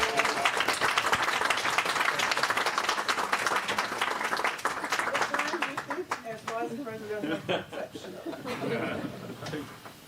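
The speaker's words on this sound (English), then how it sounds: "And a round of applause to Helgard." An audience at a commemorative event for the European day for victims of crime applauds after a short Mendelssohn performance, dense clapping that thins into scattered claps, with chuckles and murmured talk mixing in toward the end.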